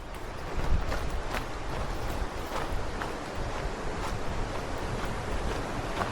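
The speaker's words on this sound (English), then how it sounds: "I can hear water raging right now" Steady rushing flow of a creek swollen with water at the start of a trail in Angeles National Forest canyon, a broad continuous wash heard close and fairly loud with no voices.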